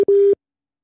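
Telephone busy signal on a call, two short steady tones, the first a brief blip and the second about a quarter second long, loud and clean against silence.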